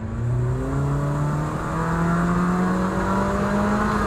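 A car exhaust fitted with a dB killer hums and revs moderately from inside the cabin, a smooth steady drone that rises gradually in pitch as the engine climbs, with no speech.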